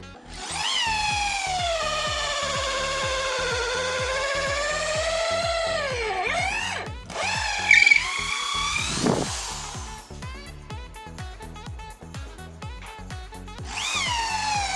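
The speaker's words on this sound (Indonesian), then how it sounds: "Ini cepat sekali untuk mengebor kayu mahoni" A DCA AZJ16 impact drill whines steadily as a 19 mm auger bit bores through mahogany, the pitch dropping as it bites, then a rougher grinding stretch.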